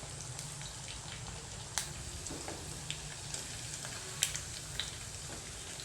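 Chicken pakoda fries crisply in hot oil, a soft, steady sizzle dotted with sharp crackles and a few louder pops, heard close and with no talking.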